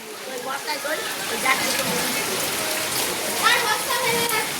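Heavy rain pours down during a flood at a village house, with water spreading indoors, a constant loud hiss of falling water broken by a few splashing drops while people talk.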